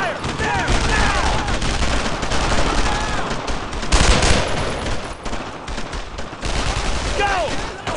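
Heavy gunfire in a World War II battle in the video game Brothers in Arms: Road to Hill 30, a dense, continuous fusillade of rifle and machine-gun shots with whizzing rounds and a louder burst midway, while voices shout faintly underneath.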